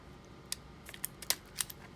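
Scissors snip a postage stamp in half: several quick, crisp cutting clicks close up over a soft background hiss, no talk.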